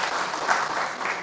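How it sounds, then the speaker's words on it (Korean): A brief burst of steady crowd applause at a creditors' association event, even and continuous through the short moment. "박수 한 번 더 주시기 바랍니다"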